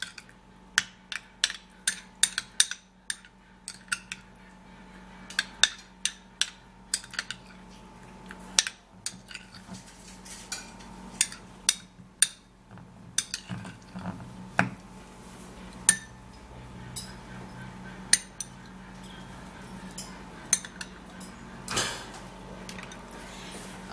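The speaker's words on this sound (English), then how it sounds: "then I'll have to stir and turn it all up together" A spoon stirs a vitamin E oil skincare mixture in a bowl, a steady run of light clinks and taps against the bowl wall, close and fairly quiet, with no talking.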